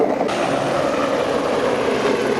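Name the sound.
helicopter flying nearby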